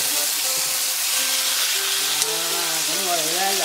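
Yellow croaker fish frying in oil in a pan over high heat, a steady, dense hiss and crackle close by throughout, with a voice talking over the sizzle.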